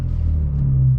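A BMW E46 M3 CS with aftermarket headers and exhaust idling close by, a steady deep low rumble that holds loud and even for about a second.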